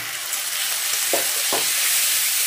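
Goat liver drops into fried onions in a pan and fries with a loud, steady, close sizzle, punctuated by two brief stirring scrapes.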